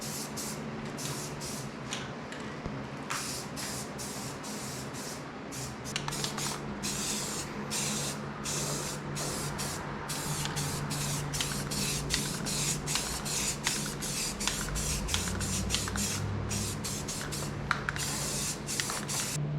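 A spray gun lays primer on a New Idea manure spreader inside a shop with a fan running: a continuous, close, loud hiss pulsing in quick repeated bursts over a steady low hum that deepens toward the end.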